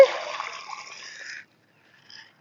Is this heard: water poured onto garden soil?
yes